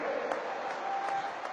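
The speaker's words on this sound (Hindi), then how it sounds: "जोर से तालियों के साथ मेरी इस बात को स्वीकार कीजिए आप।" An audience applauds at a Narendra Modi speech, producing a steady wash of clapping that is moderately loud and continuous throughout.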